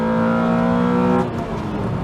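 A 1.6-litre Honda Civic Type R EK9 engine revs hard and high, then briefly drops off as a gear changes before pulling again, loud and close.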